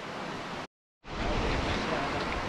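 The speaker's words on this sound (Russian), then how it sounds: "Водопад Медвежий." The Medvezhiy waterfall in the Turgen gorge of Kazakhstan roars as a loud, dense, continuous wash of water, broken by a brief total dropout before the rushing noise returns at full strength.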